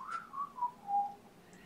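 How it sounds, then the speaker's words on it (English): A person whistles a short descending tune of about four notes, fairly quiet and alone, with no talking. "I just whistled."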